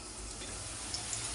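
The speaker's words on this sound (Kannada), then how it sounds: "ಇದನ್ನು ಅಷ್ಟೇ ಚೆನ್ನಾಗಿ ಫ್ರೈ ಆಗಬೇಕು" Brinjal pieces fry in a pan for a village-style gojju, making a continuous, even sizzle at close range with faint ticking spatters and no talking.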